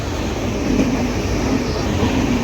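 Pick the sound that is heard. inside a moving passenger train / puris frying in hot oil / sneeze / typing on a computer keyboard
inside a moving passenger train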